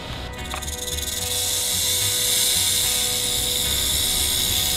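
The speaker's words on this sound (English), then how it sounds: "That is a rattlesnake." A rattlesnake's rattle: a continuous dry, high buzzing drone that holds steady and fairly loud for the whole stretch, alone with no talking.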